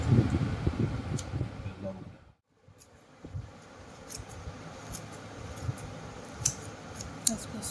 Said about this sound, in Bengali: এগুলো কেটে দিচ্ছি একদম অতি সহজেই সুন্দরভাবে এইভাবে কাটা হয়ে যাচ্ছে